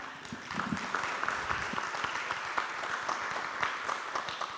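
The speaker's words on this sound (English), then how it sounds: "And I'll just pause for some applause for that, Mr. Cates, if we could, for our staff." Steady applause from a crowd fills the room, a dense patter of many hands clapping at moderate volume with no voices.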